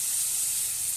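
Water poured into a hot pan of spices hisses and sizzles loudly and steadily, a close, continuous bright fizz with no talking.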